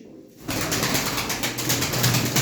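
Pigeons in a loft make a dense wash of cooing and fluttering wings, starting after a brief quiet moment and continuing close and steady.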